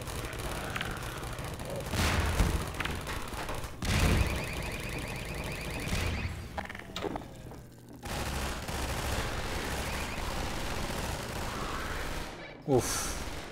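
Grenade blasts and gunfire in the video game Half-Life 2 come as loud bursts, with a heavy boom near 4 seconds and dense firing through the middle, and a voice talks in places.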